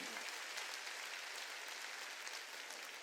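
Steady applause from a church congregation during a Wednesday worship service, many hands clapping together at a distance, even and sustained throughout without any voices standing out.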